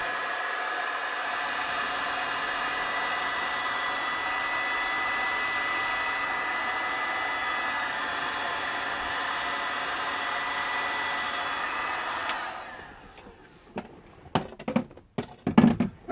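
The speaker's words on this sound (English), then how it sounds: "we simply apply the heat gun to the heat shrink to make it melt" Heat gun shrinking heat shrink tubing on wiring for a heated seat in a camper van: steady loud blowing hiss that cuts off near the end, followed by a few brief knocks and handling noises.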